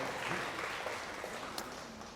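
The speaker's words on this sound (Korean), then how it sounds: "박수 보내드리겠습니다" Church congregation applauding the worship leader during a Sunday service, a soft, diffuse wash of clapping heard at a distance, blurred and steady, with no speech over it.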